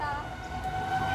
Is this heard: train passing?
yes